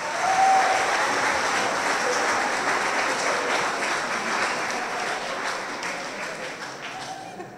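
Warm applause from a gala concert audience honours the participants of the HIT 2017 festival, a full, continuous roll of clapping that starts strong and gradually thins toward the end.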